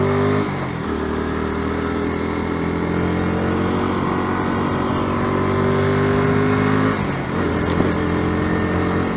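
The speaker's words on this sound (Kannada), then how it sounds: "ಇಂಜಿನ್ ಬಟ್ ಸ್ಮೂತಾಗಿ ಹೋಗ್ತಾ ಇದೆ ಗಾಡಿ." A Bajaj Pulsar NS160 motorcycle engine runs steadily while riding, a loud, close, continuous drone with a brief dip in revs before picking up again.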